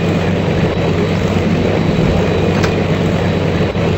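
The propeller engines of a Tu-95 bomber drone loud and close in a dense, continuous roar with a steady low throb, with no voices over it.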